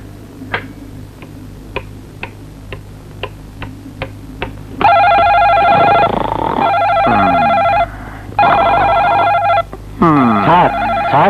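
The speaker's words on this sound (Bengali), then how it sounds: "টেলিফোন ধরছে না কেন?" Telephone rings in a bedroom scene, a bright electronic warble repeating in long insistent bursts with short gaps, preceded by a row of soft regular ticks like a clock.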